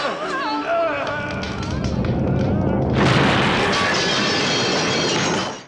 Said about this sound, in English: Then stuff catches on fire and the whole place explodes.